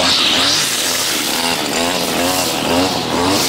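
A lawn mower cuts through overgrown grass around a property, its engine roaring loud and close with a steady drone and slight surges in pitch throughout.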